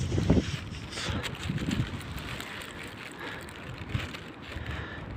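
Wind gusts across a snowy street in Orenburg in January, a steady broadband rush with louder buffeting bursts near the start and at moments later on, close to the microphone.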